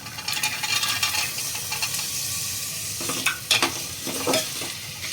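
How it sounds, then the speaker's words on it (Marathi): Green peas and peanuts go into a hot pan and sizzle loudly, a continuous frying hiss with a few sharper scraping and clattering stirs toward the end, close and with no talking. "आता मटार घालून घेऊया आपण."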